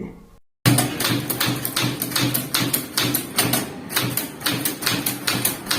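Keys strike a manual typewriter in a typing drill, a steady run of sharp, evenly paced clacks close up after a brief pause.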